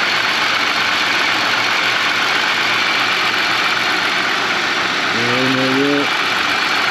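A 1999 Buick engine idles with a misfire from a faulty injector, a steady loud rough drone near at hand with a brief rising whine near the end.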